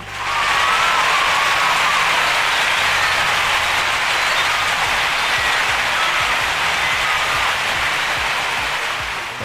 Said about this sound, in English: Everyone give a round of applause for TT Star.